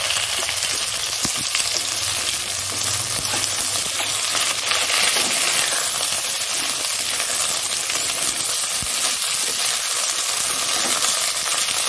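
Drumstick pods, potato, tomato and green chillies tipped into hot oil with lightly fried bitter gourd sizzle loudly and steadily in a pan, a dense continuous hiss with occasional clinks and stirring, no voices.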